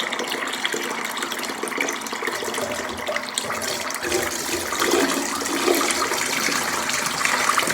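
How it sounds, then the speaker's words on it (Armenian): Tap water runs steadily into a vessel of wheat grains being rinsed, a continuous close rushing and splashing with no talk. "Այս եղանակով ջուրը միացրել եմ ու թեթև բաները ջրի երես ընկնելով դուրս է գալիս։"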